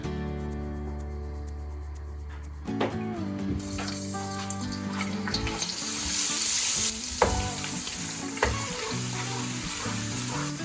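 Oil hisses and sizzles loudly as garlic-ginger paste hits the hot pan, joined by scraping and clinks of a spoon stirring; earlier, a faint background hum.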